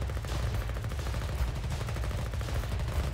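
Gunfire on an enemy base in the video game Foxhole: a continuous, dense clatter of rapid shots at moderate loudness, with no gaps.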